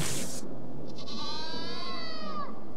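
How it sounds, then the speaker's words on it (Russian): A goat in the video game Dying Light 2 lets out a long, wavering bleating scream after a brief burst of noise, moderately loud against faint background ambience. "Коза откинула копыта. Судя по крику."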